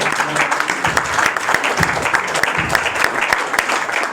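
A church congregation at a Sunday service in Treichville claps together for Jesus, filling the room with dense, continuous, loud applause and crowd noise that does not let up.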